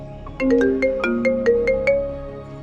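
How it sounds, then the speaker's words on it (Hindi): A phone ringtone for an incoming call plays a bright, quick melody of about eight electronic notes. It is loud and close, with no talking over it. "हिमाचल में रहने वाली मेरी दोस्त अंजलि ठाकुर, उसका फोन आया।"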